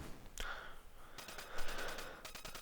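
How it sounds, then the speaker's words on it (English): A Tech 9 fires in the Famicom game Contra: quiet, clipped bursts of rapid synthetic gunfire, with one sharp report followed by a longer rattling volley over faint game background. "Shooting his Tech 9."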